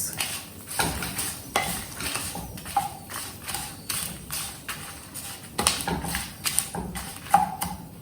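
Rhythmic scraping strokes of a spoon stirring goda masala spices with turmeric in a pan, repeated knocks and scrapes at a steady pace, fairly close and clear.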